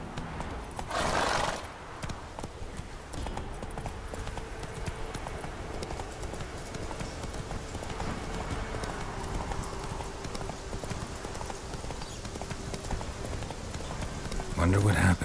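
The horse Roach galloping in The Witcher 3, with rapid rhythmic hoofbeats running steadily throughout, a whinny at the start and more neighing at the end, and a voice speaking over the hooves.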